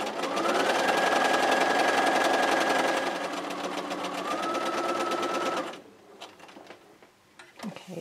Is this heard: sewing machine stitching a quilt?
yes